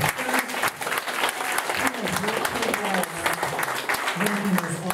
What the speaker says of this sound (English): I think it'd be a nice time to just give a nice round of applause to Michelle Abramo.